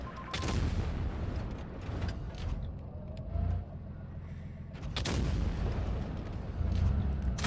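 Tank cannon shots in World of Tanks Blitz, a few heavy booming blasts spread across the stretch, each with a broad rumbling tail over continuous low engine and battle noise.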